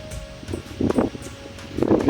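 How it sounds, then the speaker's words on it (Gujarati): Outdoor wind gusting in rainy, stormy weather, rising and falling in uneven rustling bursts close to the microphone, loudest toward the end, with no voices. "પવન બહુ આવે છે મિત્રો"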